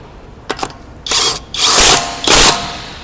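A budget cordless impact wrench works on car lug nuts in several bursts: a short rattling hit, then longer loud hammering runs, with brief pauses between them.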